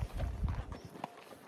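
Horse hooves clip-clopping along a dirt trail at Dawson Butte Open Space near Castle Rock, Colorado, several uneven close steps in quick succession with light outdoor ambience.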